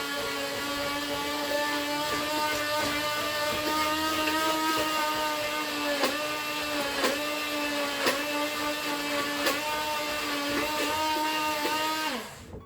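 An electric mixer whirs steadily through soap batter made with lye, a constant high motor whine with small periodic dips in pitch, running close and alone before cutting off at the end.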